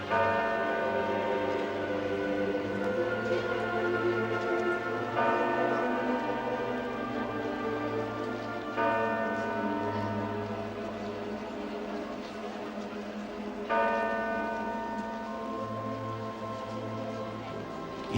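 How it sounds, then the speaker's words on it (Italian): Church bells across a city tolling for a funeral, slow repeated strikes whose hum lingers between them, heard from a distance over low background rumble. "Le campane di tutte le chiese della città suonano a morto."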